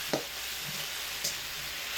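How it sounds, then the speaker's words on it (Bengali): Fried potatoes are stirred with spices in a hot pan, a steady soft sizzle broken by a few light scrapes and clinks of the spoon, with no talk over it. "ভাজা আলুগুলোকে দিয়ে এবার খুব ভালো করে মশলার সাথে কষিয়ে নেব"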